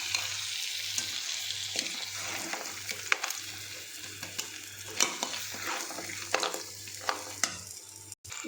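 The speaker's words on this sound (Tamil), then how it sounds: "நண்டை ஆட் பண்ணி நல்லா கிளறி விடணும்." Crab stirred through a thick gravy in a pan for a traditional crab curry: a steady sizzle with repeated scraping and clattering strokes of the spoon, close and fairly loud, with no talking.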